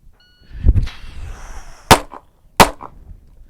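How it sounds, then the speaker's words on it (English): Two sharp pistol shots, fired in turn at two targets in timed practice, ring out less than a second apart, each a loud crack with a short echo, after some handling noise. "I'm going to fire 1 round at the 3 and then 1 round at the 4"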